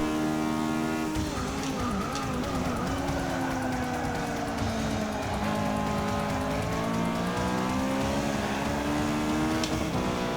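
Race car engine of an RS500 Sierra Cosworth in Forza 6 league racing, a loud continuous revving drone with rising and falling pitch across gear changes, alone without talk.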